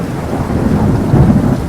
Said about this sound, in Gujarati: જો કેટલા વરસાદ ફુવારા ઉડી રહ્યા છે પવન સાથે, એટલો સ્પીડમાં પવન લાગી રહ્યો છે.